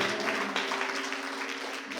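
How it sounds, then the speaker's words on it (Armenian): Audience applause at an Armenian gathering honouring commanders: steady, dense clapping from many hands, loud and continuous for the whole stretch with no voices over it. "Հայ հրամանատարների համար ծափերը,"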